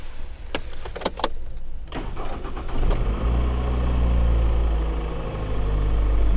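A cold 2.0-litre engine in a 2007 Toyota Avensis idles close by after an engine mount replacement, a steady low hum following a few clicks and knocks, with no one speaking.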